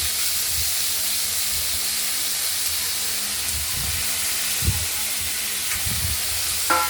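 Steady frying hiss of finely cut bitter gourd and sweet potato cooking in hot oil in a wok, with faint occasional clinks and stirring sounds, no voices.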